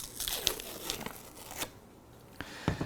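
A pint of Jeni's ice cream has its lid peeled back, giving a few close crinkly tearing rasps separated by brief pauses, with no talking.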